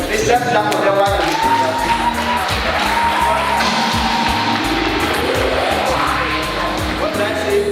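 A crowd at a summit finals event in a hotel cheers and whoops loudly, with shouts and yells over a dense roar throughout.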